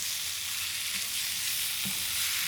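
Beef and bean sprouts stir-frying in a pan, a dense, steady hiss of sizzling with a soft thump or two of tossing, close up, with no talk.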